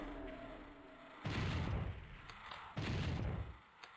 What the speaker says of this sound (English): Well, that pain elemental ate that rocket to the face